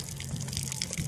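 Water from a quick shower runs steadily during a desert ultramarathon, a close, continuous hiss and splash with a low hum beneath it.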